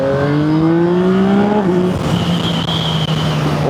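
A Yamaha MT-09 Y-AMT motorcycle engine revs up through rising tones, then the pitch drops and it settles into a steady lower drone, recorded close with some wind noise and no voices.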